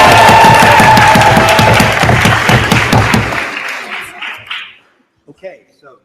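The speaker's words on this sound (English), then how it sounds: "you're going to hear a huge round of applause." A debate audience breaks into loud, dense clapping and cheering that holds for a few seconds, then thins out and fades to scattered claps and near silence.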